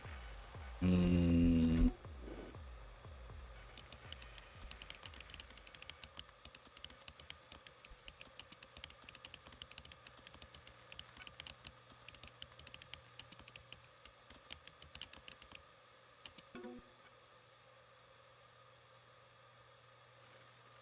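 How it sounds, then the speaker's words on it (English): Rapid, irregular clicking of a computer keyboard being typed on, a quiet stream of keystrokes over faint background hiss after a brief loud burst at the start, with no talking. "I like how you can just type random things on your keyboard and it will just type out stuff."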